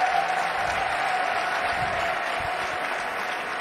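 Crowd at the Westminster dog show hound group judging applauds and cheers, a broad sustained roar of clapping that stays loud and gradually eases.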